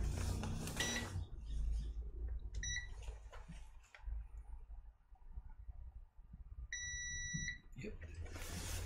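Two electronic multimeter beeps during a continuity check on a Lenovo ThinkPad T460s trackpad circuit: a short tone and then a longer steady one, close by, over quiet room noise and faint handling.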